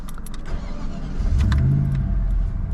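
A first-model Holden HSV with a fuel-injected 5-litre engine cranks and catches, settling into a loud, close, rumbling idle with a slight rise in revs; no one speaks.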